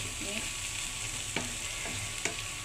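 Capsicum curry cooking in a pan, a steady low sizzle with a few sharp scraping clicks from a spoon stirring, close and alone.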